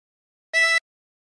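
A single clean harmonica note blown into hole 5, held for about a quarter second, bright and isolated against silence.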